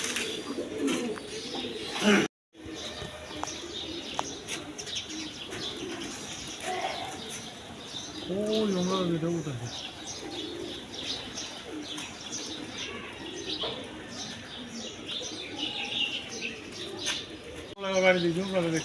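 High-flying Giribaz, Panki, Army and Silver pigeons coo and call at a loft, with occasional wing flaps, while someone talks over the birds almost throughout.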